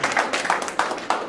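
Rhythmic, steady hand clapping from an audience at a spoken lecture, sharp claps repeating at an even pace, fairly close and moderately loud.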